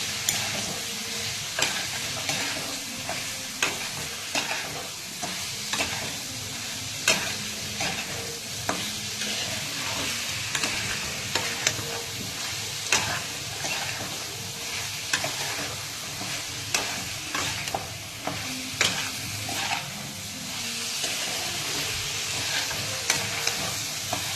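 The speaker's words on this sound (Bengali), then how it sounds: "সব গুঁড়ো মশলাগুলোকে ঢেলে দিলাম, দিয়ে এবার এটাকে ভালো করে নাড়তে থাকতে হবে।" Ground spices fry in oil in a pan for cabbage chicken, a continuous loud sizzle with regular scraping strokes of a spatula stirring throughout, close and without speech.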